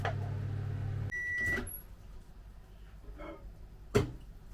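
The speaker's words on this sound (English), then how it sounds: "Right, that noise was the microwave finishing." A low microwave oven hum cuts off as it finishes, followed by a steady electronic beep tone and a door clunk, then quiet room noise and a sharp click.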